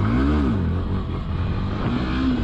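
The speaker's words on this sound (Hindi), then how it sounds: "बहुत बढ़िया पिकअप है बाइक में" A Yamaha FZS BS6 motorcycle accelerates with a steady, loud engine roar, its pitch rising, dipping slightly and climbing again over a couple of seconds. There is no talk.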